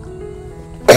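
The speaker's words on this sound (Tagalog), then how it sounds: "Ay ano lang nga, ubo." An elderly woman with flu gives a single sharp cough at the very end, loud and close after near silence.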